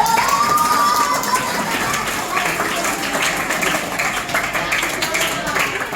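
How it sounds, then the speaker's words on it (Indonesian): A school audience at a Cherry Montessori and Brighten High School orientation event claps steadily, a broad wash of many hands with a few cheers mixed in and a voice over it. "Tepuk tangan dong"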